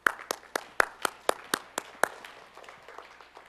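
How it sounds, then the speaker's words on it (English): Scattered handclaps from a conference keynote audience, about nine sharp separate claps in the first two seconds, then thinning out and fading to quiet. "Give them a round of applause"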